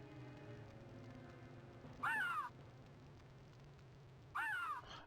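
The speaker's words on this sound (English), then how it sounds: "Harpies sound like feminine crows." Harpies in a video game give two harsh, crow-like cawing cries about two seconds apart, loud over a low, droning background.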